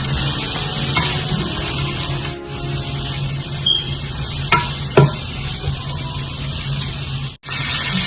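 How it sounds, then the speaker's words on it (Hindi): Shredded cabbage, carrot and mixed vegetables stir-fried in a pan for spaghetti, giving a steady close sizzle with scraping stirs and a few sharp utensil knocks against the pan. "एक 2 मिनट हो गए हैं फ्राई करते हुए"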